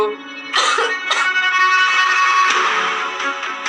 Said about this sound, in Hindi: वो सर्दी के मारे खांसने भी लगी थी।